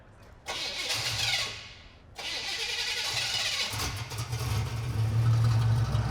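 A Chevrolet Monte Carlo fitted with a ship turbocharger cranks, catches and settles into a loud, rumbling idle, heard close up after a short starter whir, with no talking.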